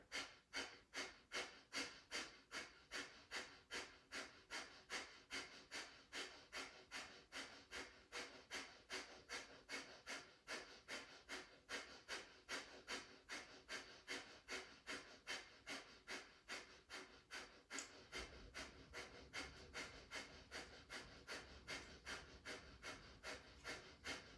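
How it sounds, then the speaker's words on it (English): Kapalabhati yoga breathing: rapid, forceful nasal exhales in a steady, even rhythm, about two per second, close and continuous for the whole stretch. "As you exhale, start a round of Kapalabhati."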